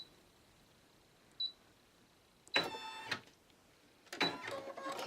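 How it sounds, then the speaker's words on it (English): An embroidery machine stitches through cardstock, with a short faint tick and then two bursts of rapid mechanical clatter, each lasting about a second, close by against a quiet background. "So I'll go ahead and start stitching."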